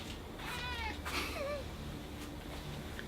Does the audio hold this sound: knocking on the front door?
no